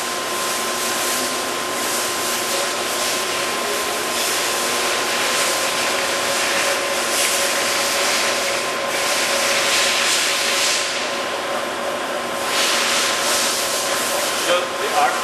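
Summit heavy duty gap bed engine lathe running in reverse, a steady, loud mechanical hum with a constant tonal whine and broadband rushing noise, nearby and unbroken throughout.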